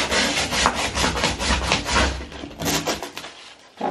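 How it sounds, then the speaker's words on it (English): Sandpaper scrubbing rust off a metal bathtub spout pipe, a quick series of rasping back-and-forth strokes heard up close, ending abruptly. "take a little sandpaper to, you know, get the rust off"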